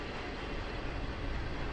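Distant train in American Truck Simulator, a short continuous low rumble with a steady rail-like wash, heard alone.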